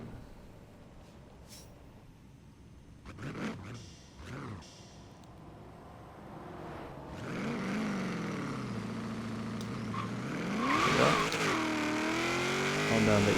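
A 1991 GMC Syclone with an all-wheel-drive V8 launches hard and pulls through rising gear revs, engine note sweeping up and shifting, loud and close with a brief burst of tire noise early on.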